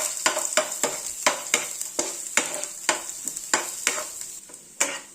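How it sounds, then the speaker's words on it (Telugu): Chopped garlic and red chili fry in hot oil with urad dal and cumin seeds for jeera rice, a crackling sizzle punctuated by regular, sharp spatula strokes against the pan, close up and without speech. "గార్లిక్ కట్ చేసిన గార్లిక్, రెడ్ చిల్లీ వేసేయాలి. వేసి వేయించాలి."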